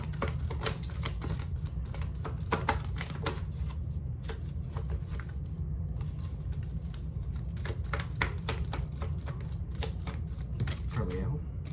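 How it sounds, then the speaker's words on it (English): Oracle cards from a Starseed Oracle deck are shuffled in a steady run of crisp riffling flicks and soft slaps, close and moderately loud, over a low constant hum, with brief quiet gaps. "So let me pull you some oracle cards here."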